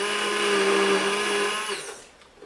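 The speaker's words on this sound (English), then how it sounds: "Before I put the oil, I'm going to do an initial blend." A blender runs loud and steady, giving an initial blend of a Super Fuel mix before oil is added, then winds down and cuts off near the end.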